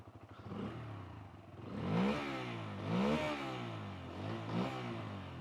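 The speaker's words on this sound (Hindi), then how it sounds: "Let's hear the bike in petrol mode." A Bajaj Freedom 125 motorcycle running in petrol mode, revved three times in rising and falling swells over a steady idle, close and moderately quiet.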